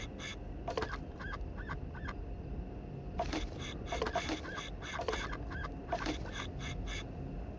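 Ducks quacking in a video game: quiet, clustered bursts of repeated quacks in short runs, set over a low steady background hum.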